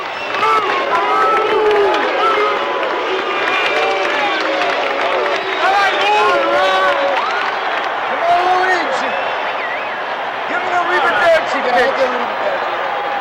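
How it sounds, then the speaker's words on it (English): A partisan stadium crowd at the 1978 World Series between the New York Yankees and Los Angeles Dodgers roars and chants continuously, loud and dense, with cheers and whoops rising through the din and voices mixed in. "Jackson returns to first base as the partisan crowd pleads, Lou, Lou, Lou"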